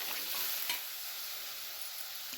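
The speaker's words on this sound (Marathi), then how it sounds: "ह्याच्या 2 उकळ्या काढून घ्यायच्या आणि मस्तपैकी शिजू द्यायचं मंद आचेवरती" A curry of pavta beans cooking on a low flame, a soft, steady hiss of simmering with a brief faint knock near the start, quiet and unbroken.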